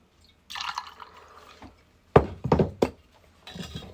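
Cointreau is poured into a cocktail, with a short splashing pour followed by several sharp clinks and knocks of glass and bottle, close and distinct against quiet pauses.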